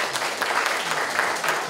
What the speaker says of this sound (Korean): 여러분 박수 한번 쳐주십시오